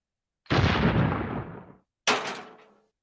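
Two sharp bursts from robot tanks firing in the Robocode battle game, the first a long booming blast that decays over about a second, the second a shorter crack after a brief silence, no talking.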